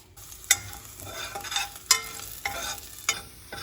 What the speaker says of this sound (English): So once the cumin and the garlic is a little sauteed